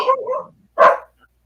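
A dog barks twice at close range, first a longer drawn-out bark and then a short, sharp one after a brief pause, in an indoor setting with no talk over it.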